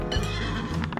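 A horse gives a loud, close whinny that fills the short moment, with a few light hoof knocks near the end and no talk.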